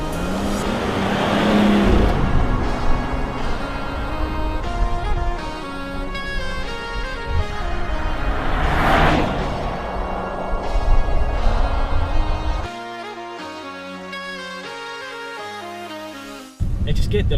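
A BMW 640i xDrive Gran Turismo drives on the road, its engine droning steadily and loudly with rising acceleration swells and tire noise, then settling into a smoother, quieter cruise toward the end.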